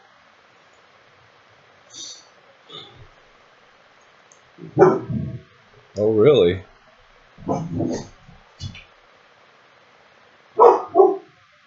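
A dog barks in short bursts of sharp yips and woofs at close range indoors, spaced irregularly across the stretch, with someone briefly speaking in between.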